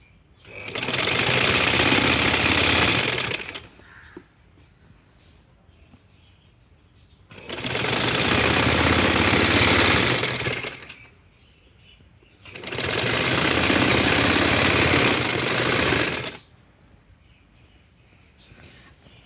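Sewing machine running in three long bursts of stitching along the edge of a kunday wali shalwar, each lasting about three seconds, with quiet pauses between them.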